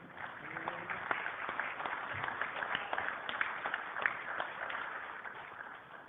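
An audience at a hop industry convention claps steadily for a panel, dense sustained applause with scattered louder claps and murmured voices mixed in throughout.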